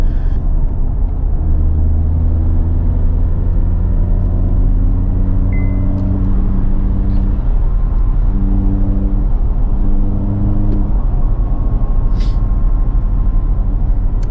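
A tuned car's engine idles steadily, a close, loud, continuous low rumble with a few brief higher notes over it and no talking.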